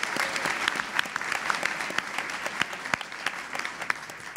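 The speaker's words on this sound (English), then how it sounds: "Let's give them a round of applause." Applause from an audience at a state senate candidate forum, a steady round of clapping from many hands at moderate distance in an indoor hall, lasting several seconds without talk.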